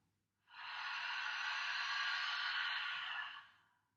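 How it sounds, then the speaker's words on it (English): A single long, steady open-mouthed exhale from a yoga class, a breathy, airy rush lasting about three seconds that swells in, holds and fades, close and clear with no talking. "And as you exhale through the mouth, like you're trying to fog a window."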